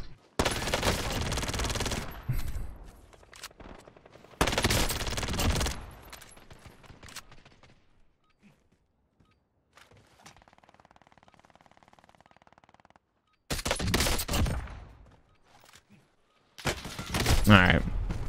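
Gunfire in Call of Duty Warzone (Cold War season one), including a DMR rifle: several loud bursts of rapid shots separated by quiet stretches, with faint in-game sounds between them.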